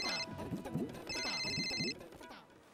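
A telephone rings indoors in two bursts of electronic trilling, heard under people talking in a domestic comedy scene.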